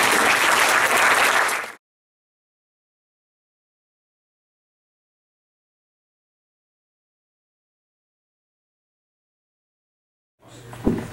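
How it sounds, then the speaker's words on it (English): An auditorium audience at a 2013 energy storage symposium breaks into loud, dense applause for about two seconds, which then cuts off abruptly into silence. "how about one more round of applause?"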